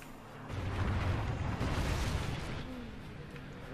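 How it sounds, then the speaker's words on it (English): A friendly Trinity rocket strike in Call of Duty: Ghosts swells into a heavy, rumbling explosive roar that holds for a couple of seconds and then slowly fades, with faint voices underneath. "Friendly Trinity rocket sound"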